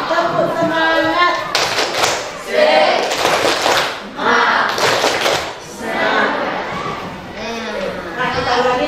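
A grade 7 class performs a rhythmic spirit clap in short, sharp clusters of hand claps and taps separated by brief pauses, mixed with children's chanting voices in a classroom.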